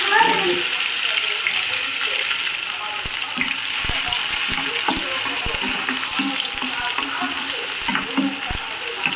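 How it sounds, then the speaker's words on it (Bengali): Onion and chopped garlic frying in a pan give a loud, continuous close sizzle, punctuated by sharp clicks of a spatula stirring against the pan. "পেঁয়াজটাকে একটু লাল লাল করে ভেজে নেব। রসুন কুচি দিয়ে দিলাম।"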